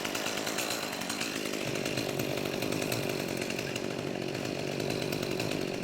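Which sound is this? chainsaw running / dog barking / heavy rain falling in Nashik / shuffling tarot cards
chainsaw running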